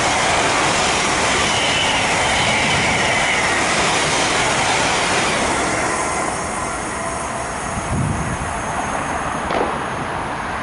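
Thameslink Class 700 electric train charging through Mill Hill Broadway station, a loud broad roar of wheels and rushing air close by that slowly fades, with a brief squeal near the end and no talk.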